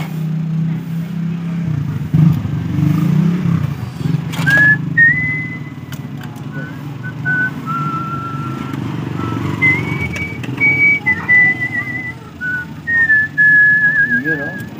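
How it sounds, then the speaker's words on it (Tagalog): A person whistles a series of sustained, wavering notes over a steady low hum and light clatter at a repair workbench, clear and fairly close, with a few short gaps between phrases. "Mga sipol na ganyan."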